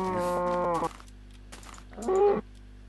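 A blocky cow in the Minecraft video game moos twice, a long harmonic low call followed after a pause by a shorter second moo, clear and close over a steady game background.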